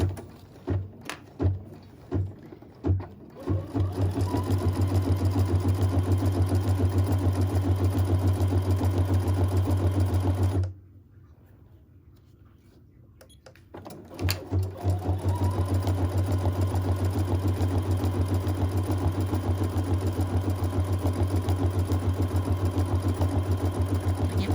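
An embroidery machine stitches a cork needle organizer in the hoop, giving a fast, steady mechanical whir after a few separate starting clicks. It drops to near quiet for a few seconds midway, then resumes its close, continuous stitching.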